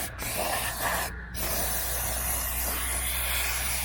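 An aerosol can sprays rust-inhibiting coating around the gas cap area of an old rusty truck, a steady close hiss running nearly four seconds with a couple of brief pauses early on.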